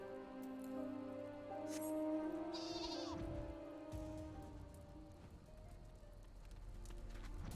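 Sheep bleat in the video game Final Fantasy XIV, a few drawn-out calls set against game music and a soft rain-like ambience, moderately quiet throughout.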